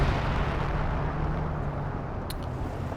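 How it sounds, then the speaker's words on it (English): A zeroing artillery barrage in Company of Heroes 2 rumbles as a continuous, loud, low roar of distant blasts that fills the whole stretch, with a brief sharp crack near the end and no voices. "calling in the zeroing artillery in the center"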